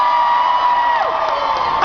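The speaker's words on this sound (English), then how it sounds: "So how about the loudest cheer you can manage to get her on stage?" An audience at a steampunk acrobatics show gives a loud, sustained cheer with whoops and shouting voices, continuous and close throughout.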